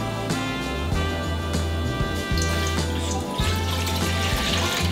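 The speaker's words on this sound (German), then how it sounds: "Wasser dazu geben" Water pouring into a cooking pot on the stove for a Thai sour yellow curry, a steady close running splash with low rhythmic sloshing, no talk over it.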